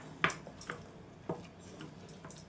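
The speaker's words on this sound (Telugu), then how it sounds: "ఇప్పుడు మొత్తం మిక్స్ చేసుకుందాం అండి" Moong dal vada batter being stirred with salt in a bowl, close and quiet, with a few soft scraping knocks of a spoon against the vessel and wet squishy mixing in between.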